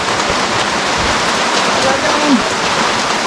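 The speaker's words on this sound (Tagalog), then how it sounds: "Palakas ang ulan!" Heavy rain pours down steadily and loudly outdoors, a dense continuous roar of drops striking surfaces, with a voice speaking briefly over it.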